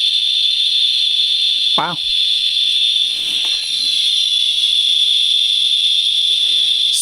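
Alpha-beta-gamma radiation detector sounding steadily over a europium-152 source, a loud continuous high electronic tone throughout with a brief spoken exclamation near the start.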